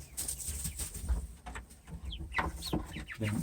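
Chickens cluck and call inside a coop, a mix of short, scattered clucks and a few rising notes. Rustling and faint wing flaps come from close by.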